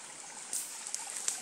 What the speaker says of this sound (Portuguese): Água natural correndo aí.